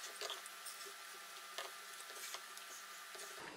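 Rava batter is stirred with curd and water in a bowl, giving soft, wet squishing and light tapping at a close, quiet level, with a few sharper clicks of the spoon against the bowl.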